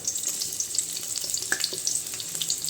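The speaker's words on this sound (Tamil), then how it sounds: "அந்த எண்ணெயில் வந்து இந்த வெங்காயத்தை வதக்கிக்கலாம்" Onions sautéing in hot oil in a kadai make a bright continuous sizzle with crackling pops and a few light scrapes, close and fairly loud.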